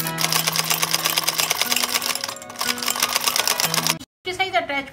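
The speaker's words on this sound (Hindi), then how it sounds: "एक सिलाई यहाँ लगा देंगे" Sewing machine stitching piping onto a blouse, a steady rapid needle chatter running almost continuously, pausing briefly before a short final burst, with tonal hum and some talk mixed in.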